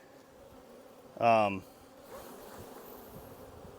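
Honey bees hum at an open hive during a colony inspection, a steady low buzz throughout, with a brief spoken voice rising over it near the middle.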